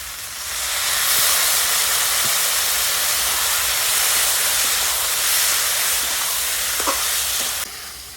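An onion, garlic and cumin paste sizzles loudly in a pan after water is added, a dense steady hiss with faint stirring clicks, close up and without speech.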